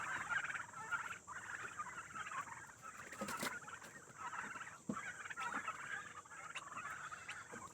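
Turkeys in a barn keep up continuous gobbling and calling, with overlapping bursts from several birds at close range and no talk.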